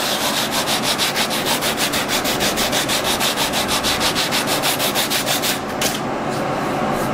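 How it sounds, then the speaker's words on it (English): Sandpaper is rubbed back and forth over oak in fast, even strokes, about five per second, loud and close. The rhythmic scratching stops abruptly near the end, leaving a quieter rustle. "So now I can go back to my sandpaper"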